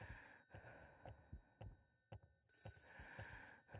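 A telephone rings in the horror game Ao Oni 3D, a steady electronic tone repeating under a rhythmic, heartbeat-like thumping pulse, with the ring dipping out briefly midway before returning loudly.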